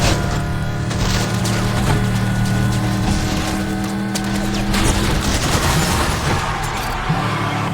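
Dense rapid gunfire from a pursuing helicopter in Need for Speed: The Run rattles continuously over a loud engine drone, a constant barrage of shots mixed into noisy action sounds without pause.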